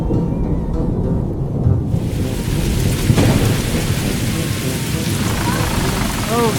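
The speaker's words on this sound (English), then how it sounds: "Suddenly, the sky rumbled with thunder," A heavy thunderstorm: a deep roll of thunder breaks over a dense, steady downpour of pouring rain that keeps hissing throughout.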